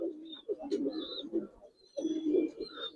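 Giribaz pigeons coo in low, throaty rolling phrases, two bursts close by, with a faint higher chirp above and a voice talking softly in the background.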